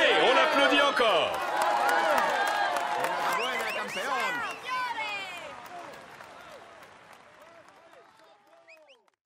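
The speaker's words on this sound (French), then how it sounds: "Allez, on l'applaudit encore." A crowd applauds a rider on the podium in the Tour de France 2017 game. Loud, dense clapping and cheering fades steadily away while a voice talks over it.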